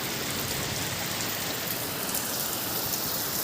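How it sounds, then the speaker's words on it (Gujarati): Heavy rain pours onto a rooftop terrace, a dense, constant roar of drops drumming on hard surfaces, steady and close with no pauses or voices. "વરસાદ તમે જુઓ કેટલો બધો વરસાદ પડે છે"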